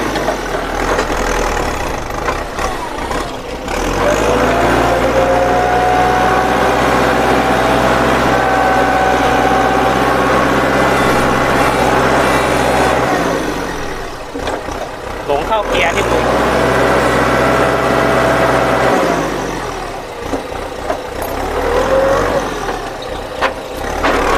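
A Kubota L4508 DI tractor engine idles with a steady low diesel rumble, close and loud, holding even for long stretches with brief dips, while someone talks over it.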